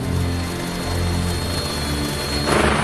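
A helicopter's steady rotor and turbine drone fills the scene, loud and continuous, then gives way to a rushing wash of noise as the chopper departs and leaves a group of hunters in the Bulgarian wilderness.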